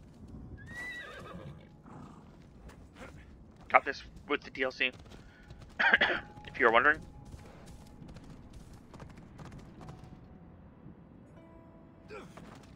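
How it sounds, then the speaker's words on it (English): Horse in Assassin's Creed Odyssey whinnies in several loud, close bursts, then a galloping clip-clop of hooves, with game ambience underneath and someone talking over the start. "Call my horse."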